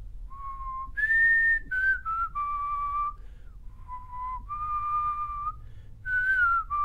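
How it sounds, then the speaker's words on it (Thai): A person whistles a song melody alone, loud and clear, with sustained tones stepping up and down in short phrases and brief gaps between them. "ผิวคล่อง เลยนะผิวเป็นเพลงดิ"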